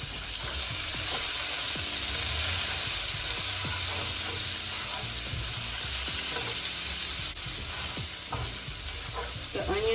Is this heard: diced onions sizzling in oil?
yes